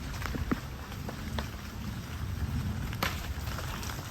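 Rain falls on a farm in Jamaica as a steady, close hiss with scattered sharp drop impacts, heard alone without talk.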